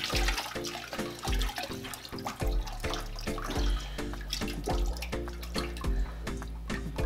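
Aquarium filter media from an Aquatop Forza canister filter is rinsed under a running tap, with water splashing and dripping in uneven bursts at close range.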